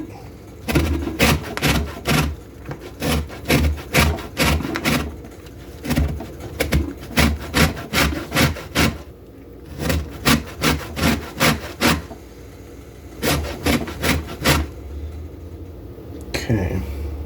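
A grapefruit peel scraped across a kitchen grater for zest, with repeated rhythmic rasping strokes in quick bursts, loud and close, pausing briefly before resuming.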